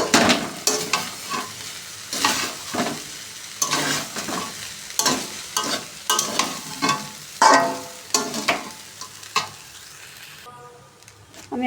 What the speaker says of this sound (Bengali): ভালো মতন এখন ভাতটা একদম নাড়াচাড়া করে নামিয়ে দিই।